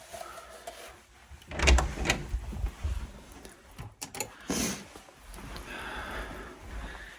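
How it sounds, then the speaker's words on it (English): An indoor door being tried and failing to open gives a few bumps and rattles of the handle and latch, close and fairly loud, with no talking. "Oh, I can't open this door."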